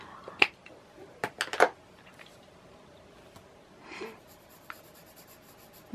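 Graphite pencil shading on paper, heard as a few short scratchy strokes and light taps clustered early, then a softer rubbing pass, close and fairly quiet with no talk.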